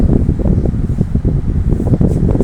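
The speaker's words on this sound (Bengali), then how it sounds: "ব্লোয়ার মোটরটি কীভাবে ঘুরতেছে এখানে বাতাস দিচ্ছে" A blower motor whirs steadily, pushing a continuous rush of air with a low rumbling hum, close and fairly loud.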